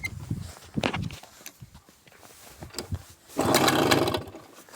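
Small engine being pulled over after a spark plug change with fuel primed, sputtering briefly without catching; uneven bursts of cranking noise, with a louder, longer rough burst near the end.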